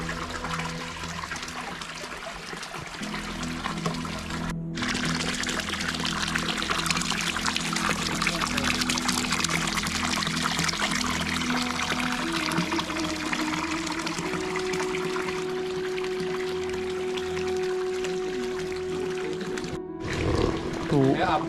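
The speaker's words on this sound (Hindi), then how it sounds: "तो यही वो पानी का सोर्स है।" Water gushing continuously from its source into a storage tank, a steady rushing pour with a faint hum running beneath, and a voice speaking over it for a while.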